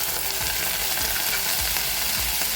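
Onion with ginger garlic paste and salt fries in a pan, a dense, loud sizzle with a few soft stirring bumps throughout.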